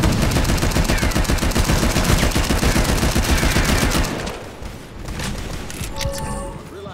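Rapid gunfire bursts and a blast from a grenade in the Shadowgun War Games shooter, dense and loud for about four seconds before dropping to scattered shots and game effects.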